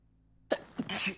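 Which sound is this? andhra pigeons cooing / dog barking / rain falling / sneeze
sneeze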